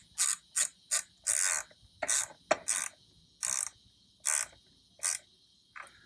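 Ratchet with a 10mm socket snugs a bolt on a Riptide pool cover cord system, giving about ten evenly spaced bursts of crisp clicking close by, separated by short pauses.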